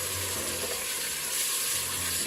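Steady, close sizzling and bubbling crackle from onions in a hot pan after water is added, continuous and fairly loud without any talking.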